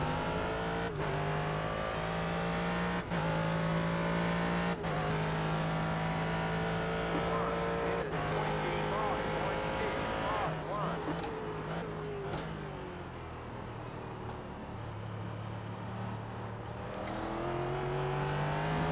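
McLaren race cars in the iRacing video game run with a steady, high engine drone and harmonic whine, shifting pitch through gears with a few sharp clicks. Another car's engine note rises and falls partway through, and a voice talks over it.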